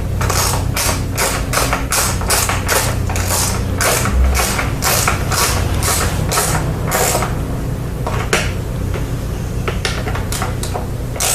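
Socket ratchet tightening a headlight bolt on a Hawk 250 motorcycle, giving a steady, rapid train of loud pawl clicks that runs without break the whole time, close up and with no voices.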